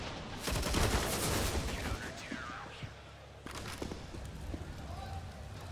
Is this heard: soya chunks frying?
no